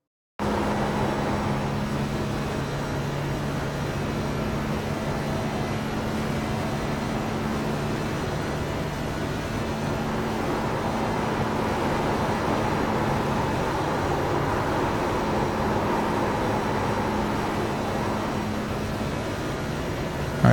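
A NASCAR race car laps Las Vegas in the iRacing simulator, its engine a steady, loud drone that rises and falls slightly with the gears and throttle for the whole run, with no voices.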